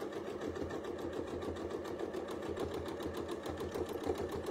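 A sewing machine does free-motion quilting on an all-over pattern, its needle hammering in a fast, even rhythm. The whirring is steady and moderately quiet and continues alone without a pause.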